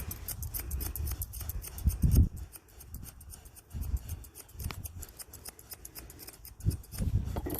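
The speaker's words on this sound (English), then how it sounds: "You can use your thinning shears and actually do it all blended in." Thinning shears trim and blend the coat of a Portuguese Water Dog during a pet retriever clip, producing quick repeated metallic snips in close bursts with brief pauses between them.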